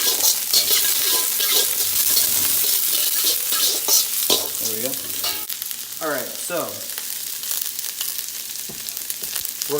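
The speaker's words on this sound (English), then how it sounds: "a little bit longer to saute" Tofu with vegetables sautéing in a pan: a steady close sizzle with frequent spatula stirs and scrapes, no talking.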